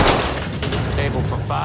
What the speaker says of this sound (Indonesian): Anna dan Ray dengan cepat langsung menembaki pasukan khusus itu dengan senapan yang mereka miliki, dan pertempuran pun terjadi.